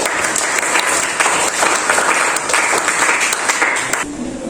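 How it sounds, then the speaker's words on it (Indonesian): A class breaks into applause during a school lesson, a close, steady patter of many hands that holds for about four seconds, then tapers off. "Tepuk tangan."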